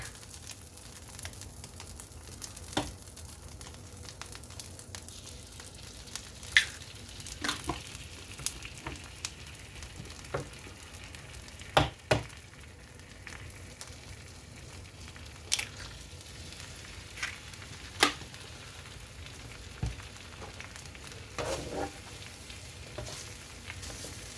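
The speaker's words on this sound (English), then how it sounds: "Making everything on the electric griddle." Food sizzles on an electric griddle during a home breakfast cook: a soft, steady frying hiss runs throughout, with scattered clinks and scrapes of a utensil.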